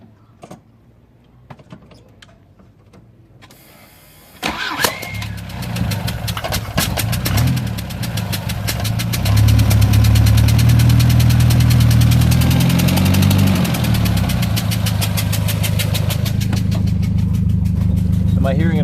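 A Volvo 140 Turbo carbureted coupe engine with a blown exhaust gasket cranks and catches after a few seconds of quiet, then settles into a loud, rumbling idle that grows louder and holds steady, with voices underneath.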